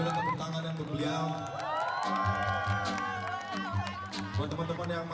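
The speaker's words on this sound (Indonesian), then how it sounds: "Boleh berikan tepuk tangan yang beliau." An audience at the inauguration ceremony for Professor Sufmi Dasco Ahmad, Deputy Speaker of the Indonesian parliament, cheers and shouts loudly and continuously, with excited voices rising over the crowd noise.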